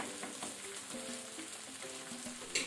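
King fish masala fries in a pan over medium flame, giving a soft, even sizzle with faint background tones and a brief brighter clatter near the end.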